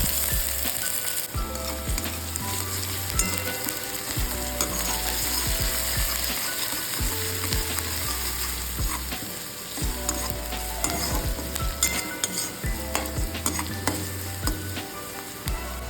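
Grated onion frying with dried chilli in a pan for a gravy makes a steady close sizzle, overlaid by frequent clicking and scraping from stirring, with a low droning hum underneath throughout and nobody speaking.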